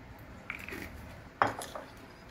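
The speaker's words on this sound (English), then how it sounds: "Mix it well." A spoon clinks and scrapes against a bowl while batter for gobhi manchurian is mixed, with two distinct knocks among soft stirring sounds, close and fairly quiet.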